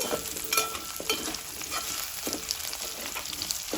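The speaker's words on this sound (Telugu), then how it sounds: "ఆలుగడ్డ ముక్కలు వేసి వేసుకొని కలుపుకోవాలి" Potato pieces frying in oil in a pan get stirred, the spoon scraping and clacking in irregular strokes over a constant close sizzle.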